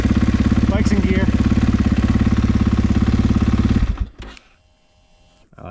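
A motorcycle engine idles in gear on a frozen winter day, a loud, steady, low throbbing drone for about four seconds before it cuts away to near silence.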